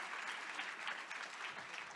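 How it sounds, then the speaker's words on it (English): Steady applause from a crowd for a panel at a planetary health and sustainability discourse, a continuous patter of clapping at moderate volume throughout, with no voices standing out. "let's give a round of applause for our panel today"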